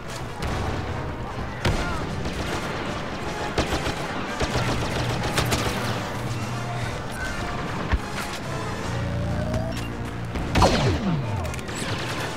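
Dense, continuous video game gunfire from Star Wars Battlefront crackles under a busy mix of blasts, explosions and battlefield effects, with sharp shots popping out repeatedly across the whole stretch.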